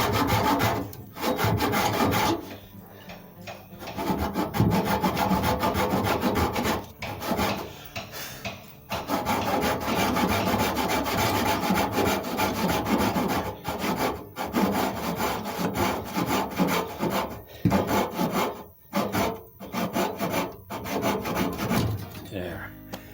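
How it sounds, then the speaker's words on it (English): Japanese pull saw cutting through wood during a wheelbarrow repair, a loud rhythmic rasping of back-and-forth strokes with a few short pauses, close and alone with no talk. "I'm going to cut it here. It's one of these Japanese pull saws."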